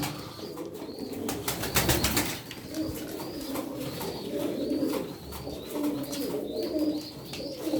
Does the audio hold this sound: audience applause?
no